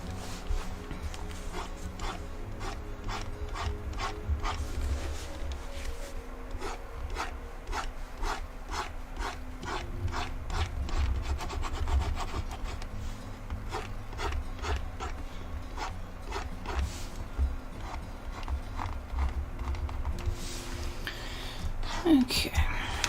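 A stylus rasps across a drawing tablet in a long run of close, quick scratchy strokes with short pauses between bursts, over a steady low background hum and a faint whisper-like murmur.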